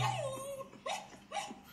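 A young man imitates a dog, producing a few short, high yelping barks and whimpers in quick succession, fairly close and clear.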